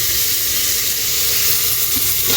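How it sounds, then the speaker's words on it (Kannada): Tomatoes frying in hot oil with onion and fenugreek leaves, a steady close sizzle and hiss running unbroken throughout. "ಟೊಮೊಟೊ ಹಾಕ್ಬಿಟ್ಟು ಫ್ರೈ ಮಾಡೋದು."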